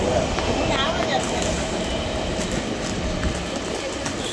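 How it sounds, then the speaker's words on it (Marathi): An Ambernath-bound Mumbai suburban local train rumbles along steadily from inside the carriage, with continuous rail noise, faint clickety-clack and brief high wheel squeals, close and fairly loud throughout. "फायनली आम्हाला अंबरनाथ ट्रेन घेतलेली आहे"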